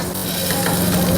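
Chopped onion sizzles steadily in hot oil for a tadka, a loud, dense, continuous frying hiss close up, with no voices.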